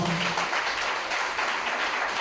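An outdoor crowd at an awareness campaign event on human trafficking in Port-Bouët, Côte d'Ivoire, claps warmly, a dense, continuous patter of many hands close by with no voices over it.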